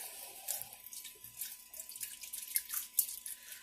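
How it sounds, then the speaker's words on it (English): Tap water runs and splashes as a purslane stem is rinsed under a kitchen faucet, an uneven hiss with drips and spatters, alone and close. "grab another stem, put it under the water."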